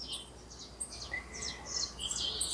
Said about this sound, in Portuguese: que os passarinhos estão despertando